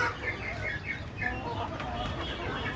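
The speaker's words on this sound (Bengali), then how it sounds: "ছাদের উপরে দেশি মুরগি পালন করতে পারেন" Desi chickens in a small rooftop coop cluck in short repeated bursts at moderate distance over a steady background.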